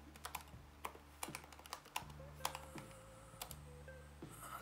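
Typing on a computer keyboard while entering details about a Hasselblad 503CW camera, heard as irregular bursts of close, crisp keystrokes alone with no talk.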